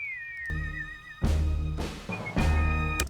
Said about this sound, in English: Let me see this original whistle.